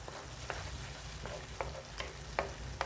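Milkfish with pineapple chunks frying in a pan, steady sizzle under close scraping stirs as ketchup gets mixed in, with several short clinks of a utensil against the pan and no voices.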